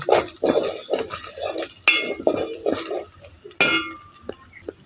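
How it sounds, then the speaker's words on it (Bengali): Chopped onion tipped into hot oil already holding browned garlic, for a home-style fish curry; a steady hiss of sizzling runs under a series of clattering scrapes and knocks from stirring in the pan, close and moderately loud. "এখন পেঁয়াজটা ঢেলে দিচ্ছি পেঁয়াজটা ঢেলে দিয়ে পেঁয়াজটা একটু কষিয়ে নেব"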